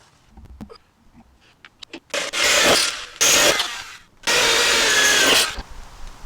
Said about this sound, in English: So let's drill those holes.